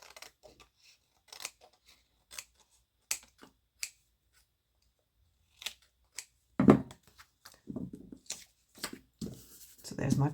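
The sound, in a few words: scissors cutting overhanging paper off a card panel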